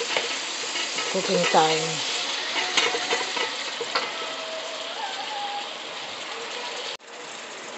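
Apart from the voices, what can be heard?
sirloin beef sautéing in a pan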